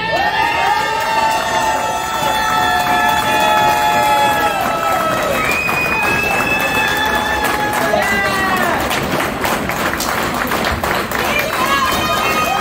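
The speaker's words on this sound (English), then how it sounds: "So give it up for my drag child, Izzy Weaver." Loud crowd cheering and whooping at a drag show award presentation, with sustained shouts and applause filling the room continuously.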